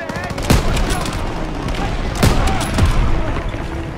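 Machine gun fire in a Call of Duty WWII battle, a sustained loud rattling burst with sharper heavy shots punctuating it, under shouted voices amid chaotic combat noise.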